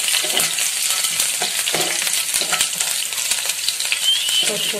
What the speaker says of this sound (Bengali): এখন অল্প লাল লাল করে ভেজে নেব সব মিলে।